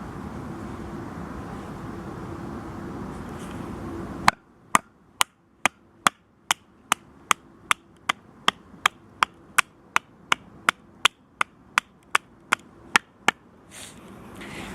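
A mallet strikes the spine of an LT Wright Genesis knife with a Scandi grind, batoning it through a roughly three-inch piece of white poplar: after a quiet start, about twenty sharp, evenly spaced knocks ring out close by.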